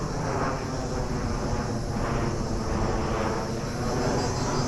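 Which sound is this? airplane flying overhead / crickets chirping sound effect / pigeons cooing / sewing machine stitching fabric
airplane flying overhead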